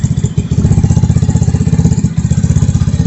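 A 2021 Vitacci 150cc scooter engine runs after a carburetor and fuel system upgrade, a loud, close, steady low putter with an even pulsing rhythm and slight mechanical clatter, heard alone.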